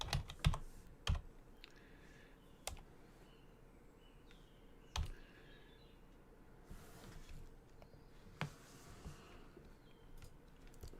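Typing on a computer keyboard during a crypto trading livestream: quiet, steady clicking with a few sharper, louder key strikes scattered throughout, heard alone without talk.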